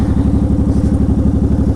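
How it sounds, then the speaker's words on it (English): A loud vehicle engine running while driving, a steady, throbbing low rumble close up and continuous throughout, with no voices. "I have kind of a loud engine."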